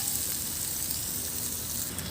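Ginger garlic paste sizzles steadily in a hot pan while mushroom biryani is cooked the traditional way, a dense, continuous frying hiss with no pauses and no voices.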